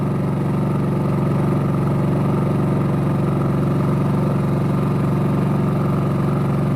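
Champion C4500iES inverter generator, a gas-and-petrol dual-fuel model, running steadily in eco mode with a low, even engine hum that stays constant throughout, close to the listener with no speech.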